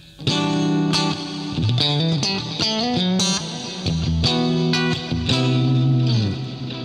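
Electric guitar in a clean tone with chorus and reverb from a pedalboard, strummed chords and picked notes ringing out steadily, fairly loud and up close.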